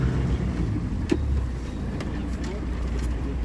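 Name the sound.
motor boat manoeuvring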